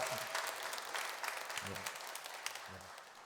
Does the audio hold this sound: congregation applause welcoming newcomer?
yes